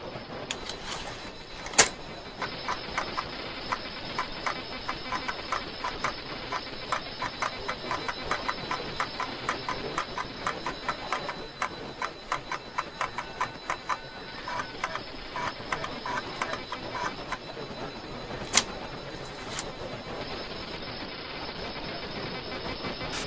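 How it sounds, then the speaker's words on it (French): Data from a floppy disk turned into sound: a quiet, steady electronic buzz with fast mechanical ticking and clicking throughout, plus a couple of sharp louder pops. "Ce qu'on va entendre, c'est le son des données sur la disquette."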